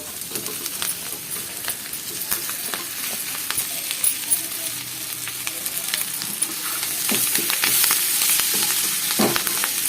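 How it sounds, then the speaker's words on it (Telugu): Steady close sizzling of raw banana and potato pieces frying in oil with onion and green chilli in a pan, with sharp scraping stirs and crackles throughout and no talking. "ఇది కూడా చక్కగా అటు ఇటు తిప్పుకుంటూ కాస్త ఫ్రై చేసుకోవాలి"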